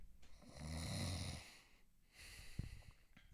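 A person imitates snoring with a voice, giving one long rasping snore and then a shorter snort-like breath, close and moderately loud with no talk over it.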